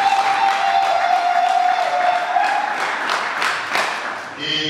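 Congregation clapping at a church wedding ceremony in Stockholm, a steady dense applause with scattered sharper claps, loud and close, lasting throughout and tapering off toward the end.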